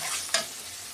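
Tomato and spices sautéing in oil for egg chicken tarka, a close, continuous hissing sizzle with a single brief scrape of a spoon stirring the pan.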